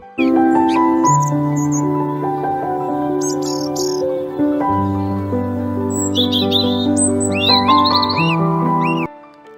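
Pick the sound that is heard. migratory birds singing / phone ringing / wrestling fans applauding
migratory birds singing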